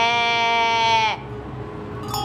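A human voice imitates a sheep's bleat from an Iranian village, one long wavering nasal cry up close, followed by a brief quieter sound.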